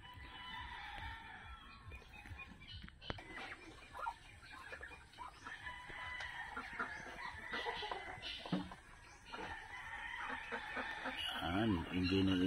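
Chickens loose in a duck-raising pen cluck and a rooster crows at moderate distance amid a busy farmyard din, with someone talking intermittently over it.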